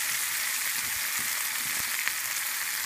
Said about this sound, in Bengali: এখন আমি পেঁয়াজটা ভালো করে একটু বিরানো করে দিলাম